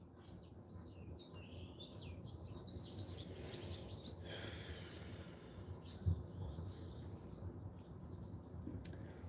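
Faint outdoor birdsong, scattered chirps and tweets drifting over steady low background rumble, distant and quiet throughout.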